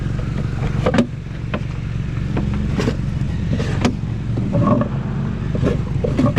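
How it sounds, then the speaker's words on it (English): A convertible Ford Mustang passing on a road, a loud steady engine and road rumble with intermittent sharp clicks and knocks, heard nearby with no talking. "He's driving a convertible Mustang"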